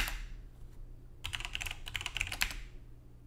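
Computer keyboard keys typed in a quick burst while entering a terminal install command on a Linux server, the clicks starting after a quiet second and running for about a second and a half, close and fairly soft, no voices.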